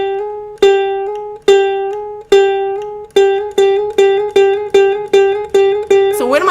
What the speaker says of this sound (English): But we're going to always hammer with an open pluck like this